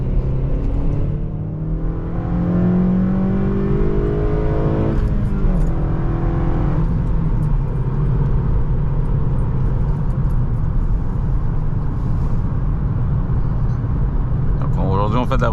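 A ninth-generation Honda Civic Si cruising a snow-free country road, its engine and road noise forming a steady loud drone throughout, with a few rising revs and a person talking over it.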